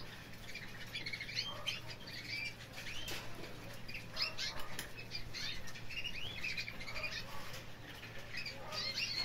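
Quick bursts of fluttering wings flap repeatedly in a small cage, a newly caged male bird, mixed with soft chirps and scratchy movement against a faint steady hum.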